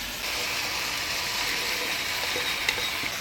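Fried boroli fish going into a pan of vegetable chachchari with stems, brinjal and small potatoes, cooked village style, gives a steady, close, even sizzle that continues throughout with no talking.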